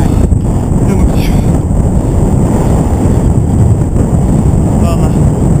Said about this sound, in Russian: Всегда дует.